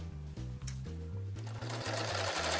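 A 1950s Pinnock Sewmaster sewing machine runs steadily up close, its needle mechanism clattering in a fast even rhythm with brief pauses, growing slightly louder and busier toward the end, with no talk over it.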